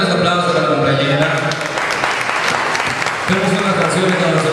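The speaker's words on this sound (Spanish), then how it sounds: "fuertes aplausos para la compañera" Audience applause at a church choir celebration in Guayaquil, a loud burst of clapping from the crowd mixed with music and voices, continuing steadily throughout.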